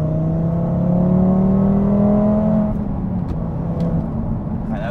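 A car pulls in third gear on its normal engine map, the engine note rising steadily and loud up close, then easing slightly in the second half with a smooth, linear build and no talking over it.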